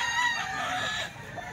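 A bull stag rooster crows loudly and close by in one drawn-out call that trails into clucking, heard alone without talk.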